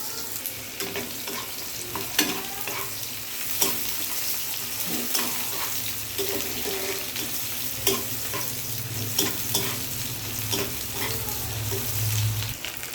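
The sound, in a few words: onions frying in pan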